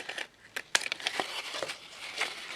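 Scissors trimming an extra strip of paper for a junk journal spine, giving a few quick, crisp snips and light paper crinkles, close and quiet.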